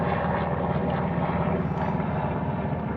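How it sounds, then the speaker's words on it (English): Helicopter flying overhead outside a doctor's office, a loud, steady rotor drone with rhythmic chopping that fills the scene continuously without any talk. "hopefully this helicopter will finish flying over"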